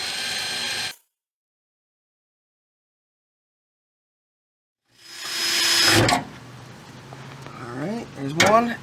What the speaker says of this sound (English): now we're going to drill a pilot hole before we use the bigger drill bit